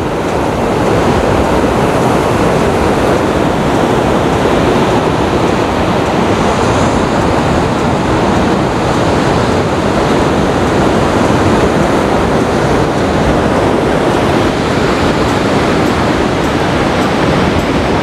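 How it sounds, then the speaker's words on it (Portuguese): Loud, continuous roar of ocean surf at Guarujá, Brazil, big waves crashing and washing in without pause, close by, with no voices. "Olha só o tamanho das ondas"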